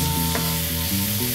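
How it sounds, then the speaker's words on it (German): Tomato paste sizzles and spits in a hot frying pan while being stirred for Szegediner goulash, a steady close frying hiss with low tonal hum beneath, no talking. "Bei Oma kommt das Tomatenmark direkt in die Pfanne."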